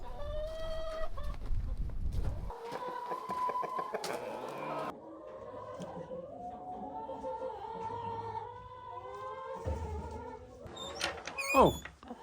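Hens cluck and squawk repeatedly at close range on a farm on a cold sunny day, with a burst of louder agitated calls near the end.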